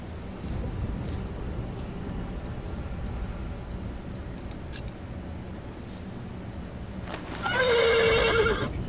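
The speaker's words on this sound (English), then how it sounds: "The horse nearly woke the guard." A horse in a medieval cathedral-building video game lets out a single clear whinny near the end, rising over a steady windy outdoor ambience, with no talk.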